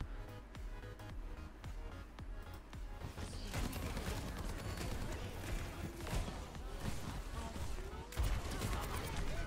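Soldier 76's rifle firing in the Overwatch 2 shooter, with bursts of rapid gunfire, sharp impacts and action noise building loudly after a quieter opening of clicks, and a voice talking over it.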